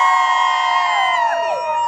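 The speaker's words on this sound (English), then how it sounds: "On the count of 1, 2, 3, cheer!" A crowd at a Halloween event in Derry lets out one sustained cheer, many voices held together, loud and near, before it tapers off and fades.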